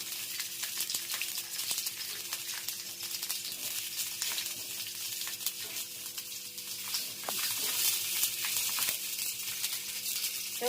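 Green chillies frying in oil give a steady, close sizzle with crackles and small pops, heard without any voices for a little over ten seconds.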